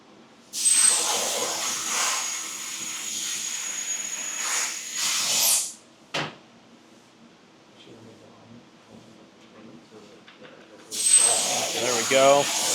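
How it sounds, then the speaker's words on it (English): A Fronius welding machine welds a seam with a loud, close hissing burst lasting several seconds, then stops with a sharp click, falls quiet apart from a low hum, and starts another hissing run near the end. "So we've welded that side."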